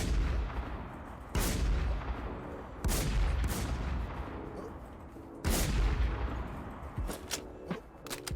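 M1 rifle shots in a video game, three or four loud separate reports a couple of seconds apart, each with a booming tail, plus a few smaller clicks.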